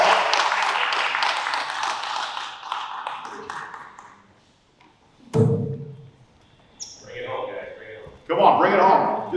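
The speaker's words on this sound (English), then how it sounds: "Please, let's give him a round of applause." Audience applause at an Italian flag raising ceremony honoring a county commissioner, a dense burst of clapping filling the first four seconds and then fading, followed by scattered voices and brief noises.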